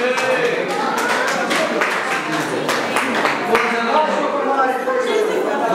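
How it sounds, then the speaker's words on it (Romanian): Applause in a wedding hall, with many hands clapping steadily and fairly loud under chatter and voices from the guests. "Dăm aplauze!"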